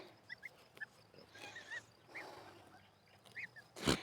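Short high-pitched peeping calls from goslings, scattered across the clip and fairly faint over outdoor background, ending with a brief loud rustle.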